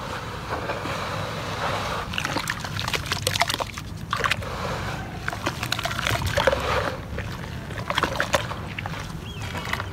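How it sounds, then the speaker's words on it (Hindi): Water sloshes and pours steadily while sand is washed in a bucket, with bursts of splashing and a continuous liquid rush close by. "अब हम रेत को साफ पानी में निकालते हैं।"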